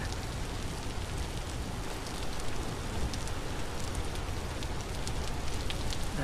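Steady rain in the survival game Vintage Story, a dense, even hiss of drops on surfaces that holds at a constant moderate level throughout with no voices.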